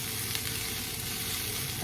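Calabacita, Mexican zucchini, sautéing in a pan gives a brief, steady close sizzle with light stirring, ending in a sharper clatter, and no speech.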